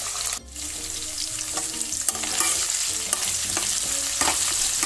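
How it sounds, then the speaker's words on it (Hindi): Onions frying with ginger-garlic paste and curry leaves in a pan for a potato sabji, a steady close hiss and sizzle with occasional clinks and scrapes of stirring, no talk. "इन प्याजों को हमें ट्रांसलूसेंट होते तक पकाना है।"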